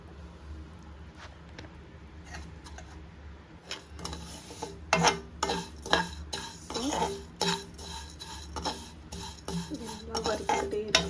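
Payasam ingredients stirred and roasted in a pan over a medium flame, a spoon scraping and clinking against the metal in irregular bursts that grow busier and louder after a quieter start, close up with no talk.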